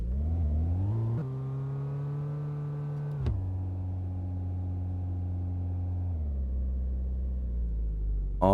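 A car engine in the My Garage video game hums steadily at moderate revs while being parked, shifting pitch in a few abrupt steps, close and loud with no voices.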